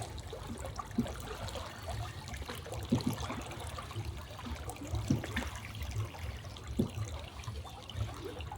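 A river flowing and trickling outdoors, a steady gurgling stream with occasional splashy bursts.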